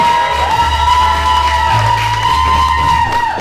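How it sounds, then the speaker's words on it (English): A comedy club audience claps and cheers to welcome comedian Karim Damji onto the stage, a dense, loud wash of applause and whoops that holds steady throughout the short burst. "Start clapping for Karim Damji, everyone. Give it up for Karim."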